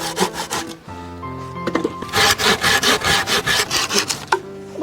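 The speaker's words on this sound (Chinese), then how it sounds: "爸爸，我来帮你锯。" A hand saw cuts through wood at a rural Sichuan home, making steady rhythmic rasping back-and-forth strokes that are loud and close, with a few tonal sounds in the background.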